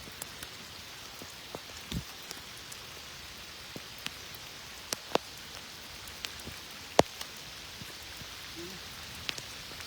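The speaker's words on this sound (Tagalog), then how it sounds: "Nalakas ng ulan." Steady, dense rain hissing on surfaces while sheltering in a hut, with occasional sharper drips and taps standing out; no voices.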